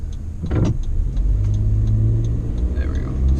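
A car is being driven, its low engine rumble and road noise running steadily close by, with a few clicks and a brief thump near the start.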